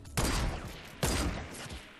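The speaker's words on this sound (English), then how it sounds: "I'm gonna see if I can snipe that dude" Two loud sharp sniper rifle shots in Fortnite Battle Royale, about a second apart, each ringing out with a short echoing tail.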